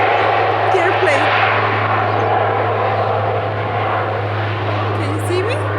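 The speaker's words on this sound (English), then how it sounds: "Can you hear the airplane?" An airplane flies overhead outdoors at golden hour, a steady low drone with a constant hum that carries through the whole stretch at moderate loudness while people talk nearby.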